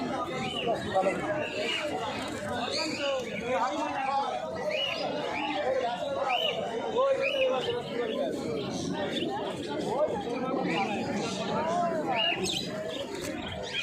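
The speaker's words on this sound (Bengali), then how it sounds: "বিভিন্ন পায়রা, দেশি পায়রা, বাজি পায়রা আছে।" Local and tumbler pigeons at a busy pigeon market coo and flutter continuously among chirps from other birds, under dense chatter and voices of traders throughout.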